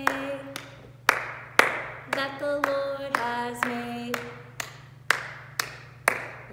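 Children clap along to a worship song in a steady, evenly spaced beat, sharp close handclaps punctuating a sung melody throughout.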